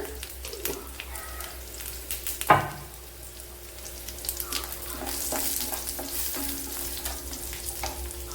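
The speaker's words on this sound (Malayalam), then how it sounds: "ഒരു 1/2 ടീസ്പൂൺ ജീരകം ഇട്ട് കൊടുക്കുക." Half a teaspoon of cumin seeds hits hot oil for a Kerala-style ash gourd thoran, a sudden sharp spatter followed by a continuous close crackling sizzle with small pops.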